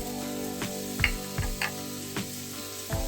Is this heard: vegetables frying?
yes